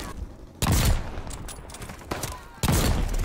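Sniper rifle fire in the video game Call of Duty: Vanguard: two heavy, booming shots about two seconds apart, each followed by a short rumbling decay, with low background game noise between them.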